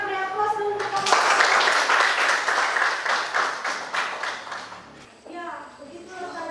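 Classroom applause for the first student group after their class presentation, a burst of dense clapping that fades after about four seconds, with a voice talking before and after it.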